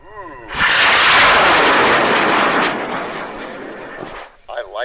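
A 26-pound composite high power rocket launches on an L2200 motor at Airfest in Argonia, Kansas, a loud sustained roaring burn that fades over a few seconds, with crowd voices before and after.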